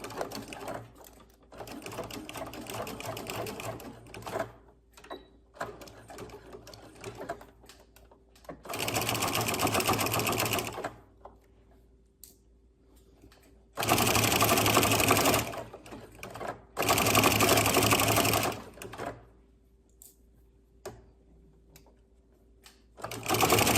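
Sewing machine stitching a binding strip on fabric, running in several steady buzzing bursts of a few seconds each, separated by quieter gaps with faint handling and low speech.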